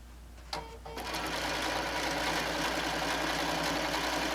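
Sewing machine stitching a fabric apron panel, starting up after a brief pause and then running in a steady, continuous whir close by, alone without talk.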